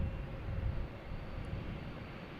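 A Delta Embraer 175 jet on runway 27 at Boston Logan Airport gives off a low, steady engine rumble from a distance, faint and continuous with no voices over it.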